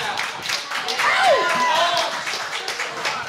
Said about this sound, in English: Clap if it's Namor.